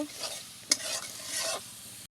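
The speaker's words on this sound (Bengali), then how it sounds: "ভালো করে মশলাটা কষিয়ে নেব" Ginger, cumin, onion and garlic paste sauté in a pan, a soft hiss broken by a sharp spoon click near the start and rhythmic scraping swishes as the paste is stirred, close and without speech.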